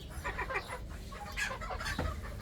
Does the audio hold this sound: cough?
no